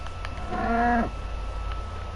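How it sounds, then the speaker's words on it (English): A single short cow moo from Minecraft on PS4, with a clear tonal rise and fall lasting about half a second over a low steady background hum. "Okay, yeah, that's just a cow."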